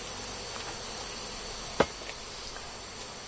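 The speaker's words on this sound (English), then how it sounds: "I've been looking at all the bees" Steady, dense insect buzzing from bees around a hive fills the clip at an even level, with one brief sharp knock partway through and no talking.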